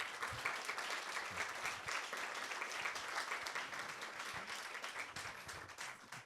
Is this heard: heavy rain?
no